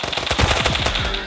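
Loud, rapid gunfire from a pistol in a video game, a fast series of close sharp shots running through the short moment with no pause.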